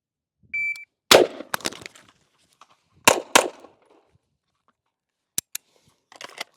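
Gunshots from a clone-correct Colt 727 carbine at an outdoor range: four or five sharp, loud reports at irregular intervals, with brief quieter clicks and handling noise between them.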